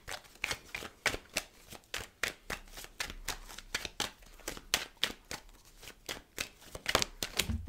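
Tarot cards shuffled by hand in a quick rhythmic series of crisp riffling flicks, close and clear, with one card jumping out near the end.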